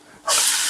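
Peppers tossed into a hot pan with onions, a sudden loud hissing sizzle that bursts in and holds, close by.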